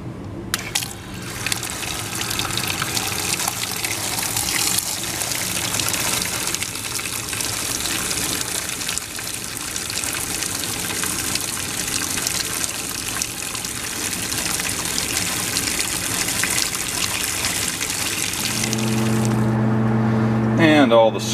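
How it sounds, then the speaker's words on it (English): Tap water gushes steadily into a basement utility sink holding warm soapy water, a loud continuous rush that ends with a brief low rattle. "Gonna have to add a little more water."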